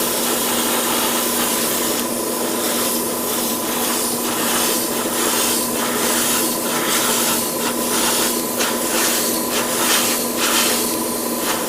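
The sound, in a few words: spray painting model kit part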